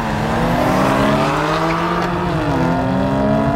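A BMW M2 CS launching hard in a drag race, engine note climbing steadily with a rising, strained roar and tyre squeal from wheelspin, loud and close throughout.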